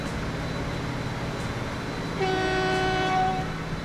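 Train horn in the video game Transport Fever, a long multi-tone honk blaring loudly for about a second and a half over a steady rumble of the train rolling through a desert.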